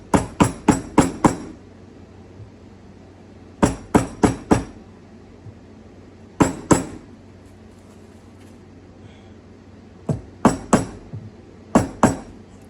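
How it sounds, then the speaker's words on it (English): Metal hammer striking another hammer during a transfer case and slip yoke install, sharp ringing clanks in quick clusters of three to five blows separated by pauses, close and loud with no talking. "Hammer to hammer, right?"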